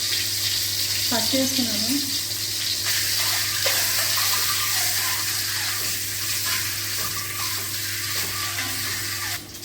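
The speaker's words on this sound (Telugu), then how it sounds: "ఈ ఆయిల్లో ఫ్రై చేస్తున్నాను, కొంచెం ఆయిల్లో." Eggs frying in a little oil in a pan, a loud continuous sizzle and crackle close by, with a short remark spoken over it.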